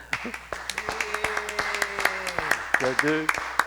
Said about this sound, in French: On l'applaudit, hein?